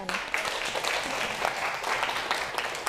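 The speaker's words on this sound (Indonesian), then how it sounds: "Tekan tepuk tangan." Classroom applause as students clap together after a teacher's prompt during a lesson, a dense, steady patter of many hands lasting the whole moment at moderate level.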